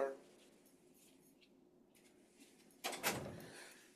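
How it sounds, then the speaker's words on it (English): A door being shut indoors, heard as a single soft thud and rattle near the end after a quiet room stretch, fairly close and moderately loud. "let me just close my door"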